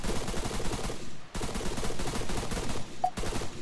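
Suppressed gunfire in Arma 3, dense and continuous, with rapid muffled shots clattering nearly without pause across the clip and one brief dip in the middle; no talking.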